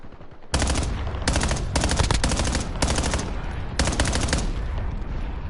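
Black Ops 6 gunfire: several sustained automatic bursts of rapid shots, close and loud, separated by short pauses between volleys.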